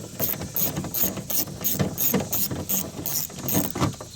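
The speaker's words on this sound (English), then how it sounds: "lastly we got the bolt right here for this regulator. Go ahead and get that one completely removed." A ratchet wrench works loose the window regulator bolt inside the door of a 2012 Nissan Altima, making quick repeated clicking bursts in an even rhythm, close by with no talking.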